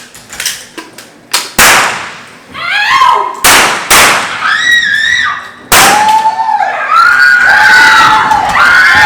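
Loud, sharp gunshots from a campus officer firing ammunition down a school hallway during a disaster-response drill, several separate bangs with echoing tails, mixed with screams and shouting from students.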